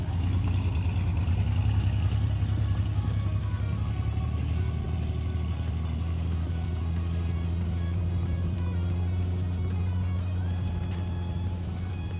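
A deep, rumbling muscle car engine runs steadily and loud nearby at a car show, its low drone holding through the clip without talk.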